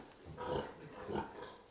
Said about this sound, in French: Les porcs prennent leur temps pour manger